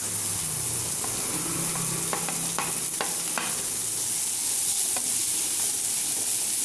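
Onions sautéing in a pan for a mixed vegetable sabji give a steady close sizzle, with a few sharp clicks and scrapes from stirring.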